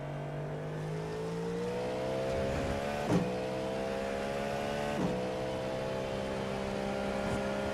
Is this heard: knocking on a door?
no